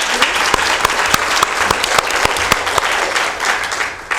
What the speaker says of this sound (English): round of applause for everybody here